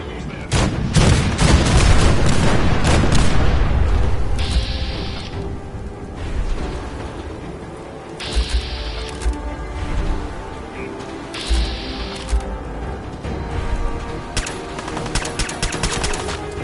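Cannons and turrets firing in the video game Fallout 4, a heavy barrage of booming blasts and rapid gunfire that rolls on for several seconds, then settles into repeated bursts of shots with short pauses between them.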